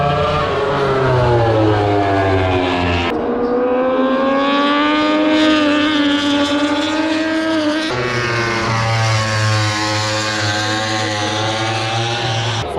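MotoGP motorcycles racing into the first corner, loud high-revving engines wailing continuously with rising and falling pitch sweeps as they shift and brake.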